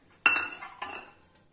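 A metal cake tin being greased with oil clinks twice in close succession, one bright metallic knock followed by a softer one, then fades to near silence.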